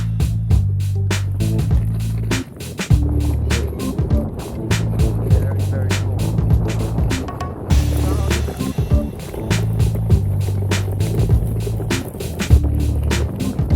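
An electric Fluid Board longboard rolls along with a loud, steady wheel rumble and regular rhythmic clacks as it passes over seams in the ground.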